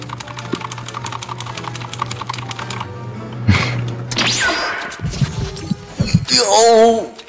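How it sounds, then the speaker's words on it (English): Rapid clicking computer keyboard typing, played as keyboard ASMR over a voice chat, with a fast even tapping rhythm for about three seconds before excited voices talk and laugh over it. "Oh, there it is, the keyboard ASMR."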